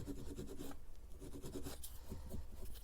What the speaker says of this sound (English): Just grab the grunty sandpaper. I'm just going to take that little bit of atom off the end there.